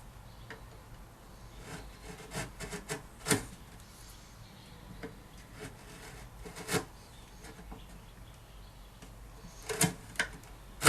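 A sharp chisel cutting binding channels in wood, a sparse series of small dry ticks and scraping taps at irregular intervals, close but fairly quiet, with a few sharper clicks.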